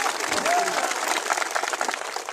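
An audience applauds at a political speech by a politician: dense, sustained clapping from a crowd at moderate level throughout, mixed with a brief voice.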